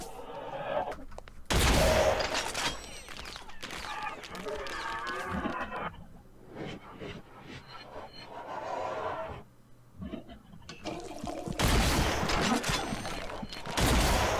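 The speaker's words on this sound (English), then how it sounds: "So we're just gonna shoot some rounds down there." Gunfire from rounds shot in the video game Unloved, played solo on Abyss difficulty with quad damage, comes in loud bursts near the start and end, with quieter shots and game noise between and a voice talking over much of it.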